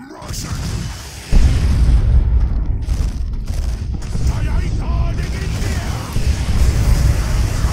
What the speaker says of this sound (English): It's a bomb think I just threw it on my own guy.